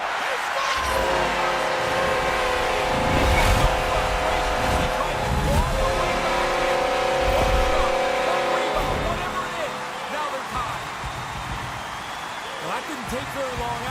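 A hockey arena crowd erupting after a goal in a Stanley Cup playoff game between Buffalo and Pittsburgh, a loud sustained roar swelling and then easing, with a commentator talking over it.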